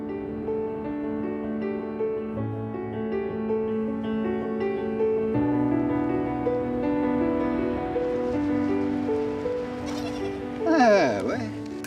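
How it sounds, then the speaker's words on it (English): Goats bleating in the desert of Morocco's High Atlas, their calls rising over a steady musical bed, with a louder burst of bleats near the end. "The goats roam from oasis to oasis, from rock to rock."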